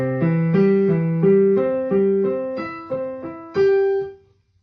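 Piano arpeggios rise and fall through triad inversions in a steady rhythm, ending on a held note that rings out and fades.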